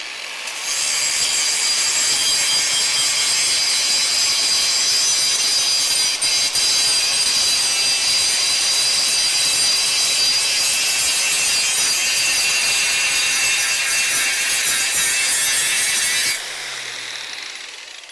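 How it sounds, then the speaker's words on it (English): An angle grinder works steadily on a welded pipe in a garage, a loud, continuous bright grinding that runs unbroken for about sixteen seconds and then cuts off abruptly, leaving a faint low hum. "I'm trying to find a way to get the grinder in there without screwing up the other pipe"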